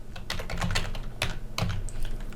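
Quick, irregular keystrokes on a computer keyboard enter a file name: soft, close taps in small bursts over a faint background hiss.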